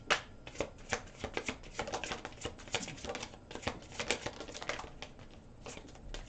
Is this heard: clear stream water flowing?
no